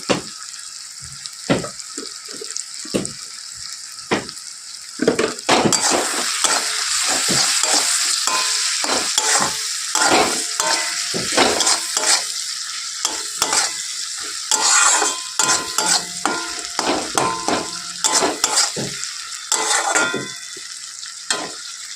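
Spice masala with turmeric is stirred and fried in a pan: a loud, close sizzle punctuated by repeated rhythmic scraping strokes of a spatula, with no one speaking.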